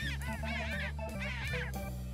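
Birds being fed give a run of loud, close, repeated quacking and honking calls in two or three bursts, with no talk over them.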